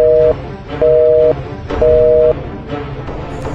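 A phone's busy tone after a call is cut off: three loud, evenly spaced electronic beeps, each about half a second long, separated by short pauses.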